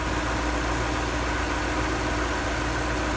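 A Lexus LS sedan's 4.3-litre V8, rated at 290 horsepower, idles smoothly with a steady, even hum and low rumble, close by and alone, with no change in pitch throughout.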